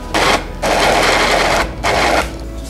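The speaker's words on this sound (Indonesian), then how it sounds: "Dan kita blender sampai lembut, sampai halus." An electric blender grinds red chilies and bird's eye chilies in loud close bursts, three whirring runs split by short pauses.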